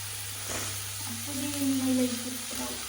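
Onion, tomato and chili frying in a pan give a soft, steady sizzle with brief stirring scrapes, quiet and close, with faint background hum.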